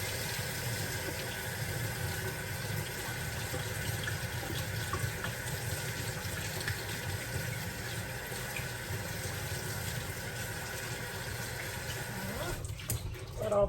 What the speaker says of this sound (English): put them in a little strainer like that, and oops, run them through cold water